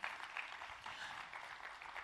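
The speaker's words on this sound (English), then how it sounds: "A round of applause for him, ladies and gentlemen." Faint, distant applause from a conference audience at a developer day event, a soft steady patter of many hands clapping with no voices over it.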